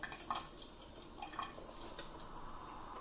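Water drips and trickles faintly as cooked food is drained, a few small liquid plinks early on followed by a soft, steady pour.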